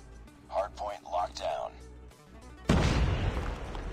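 A frag grenade explosion in Call of Duty Mobile goes off as a sudden loud boom with a long rumbling decay, after several short bursts of game voice and sounds.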